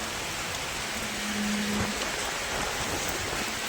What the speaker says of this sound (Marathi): जोरात पाऊस येतो, सगळे कपडे वगैरे सगळं उडतंय